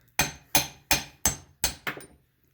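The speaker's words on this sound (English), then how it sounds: "I'm just going to be using a 13/16 socket to knock it out the other side" Six sharp metallic hammer blows strike a 13/16 socket to drive out a seal from a Honda XR100 engine case, evenly spaced and loud, each ringing briefly before the next.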